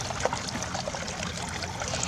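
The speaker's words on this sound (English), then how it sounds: "we have this little fountain in here that keeps the water moving" Water trickles steadily from a small fountain in a backyard goldfish pond edged with cattails, a soft continuous splashing dribble at moderate level with no talk over it.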